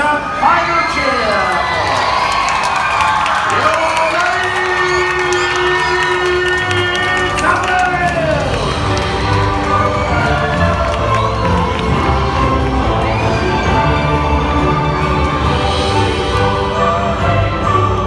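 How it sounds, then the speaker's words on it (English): Crowd at a Medieval Times show, children on a school field trip among them, cheering loudly and continuously with whoops and shouts, while an announcer's voice carries over the noise. "Let us band together and raise a final cheer!"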